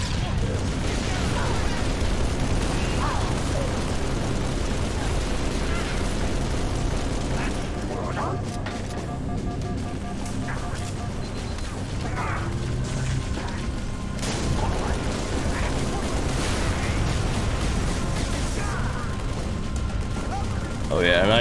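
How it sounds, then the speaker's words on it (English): Halo 3 combat on the Sierra 117 mission, with a continuous dense din of gunfire and explosions, including a close grenade blast, packed with sharp bursts and crackling rattles, and a voice talking over the action. "That was a very close grenade, wasn't it?"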